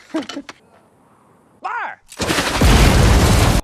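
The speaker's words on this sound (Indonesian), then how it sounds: "Mereka bermain-main dengan senjata RPG." Heavy gunfire from military weapons including an RPG in an action film, a loud sustained barrage of blasts and rattle that fills the final stretch, preceded by brief voices and a short sweeping tone.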